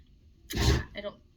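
A single sharp sneeze, close and loud, followed by a short breathy sound as it fades.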